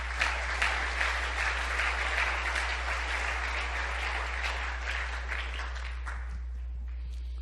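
A church congregation breaks into sustained, dense applause, a steady wash of many hands clapping that holds evenly and then thins out near the end, over a constant low hum.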